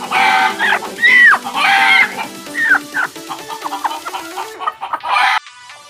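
A brooding hen, set on a clutch of eggs, clucks repeatedly, with short squawky calls rising and falling close by, other fowl chattering faintly in the background.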